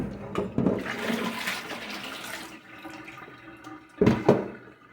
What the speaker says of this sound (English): I'm washing them with regular water